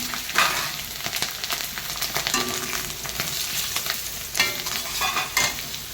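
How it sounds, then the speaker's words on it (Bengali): Cumin, dried fenugreek, asafoetida, dried chillies and chopped garlic sizzle in hot oil, a dense crackling hiss with repeated stirring scrapes and clinks, close and continuous. "এবার তেল গরম হয়ে গেছে আমি এবারে ফোড়ন দেবো ফোড়নের মধ্যে জিরে আছে কসুরি মেথি আছে হিং আছে শুকনো লঙ্কা"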